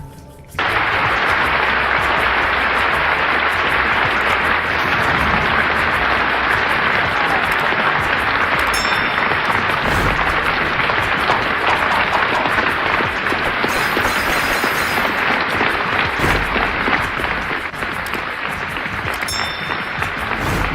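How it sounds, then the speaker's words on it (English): Sustained, loud applause from the whole Union debating hall audience on their feet, dense clapping continuing steadily for about twenty seconds after a brief quiet start, no talk over it. "The whole of the Union standing and applauding this magnificent speech of James Baldwin"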